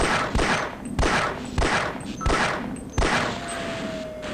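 Gunfire aimed at an automated turret in Half-Life, five sharp, evenly spaced shots about half a second apart, each with a short reverberant tail, loud and close.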